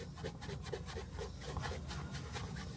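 Scratch remover is rubbed by hand onto car paint, giving close, steady back-and-forth scrubbing strokes in a quick even rhythm.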